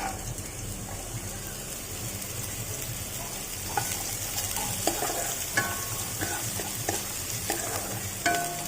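Potatoes and carrots fry in oil in a pan, reused from frying nuts and raisins. A steady, hissing sizzle fills the clip, and spatula scrapes and taps break in repeatedly toward the end. There is no talking.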